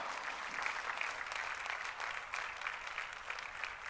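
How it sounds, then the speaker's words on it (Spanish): A church congregation applauds in a steady, dense wash of clapping that fills the room at a moderate level, without speech. "Denle un aplauso a Dios."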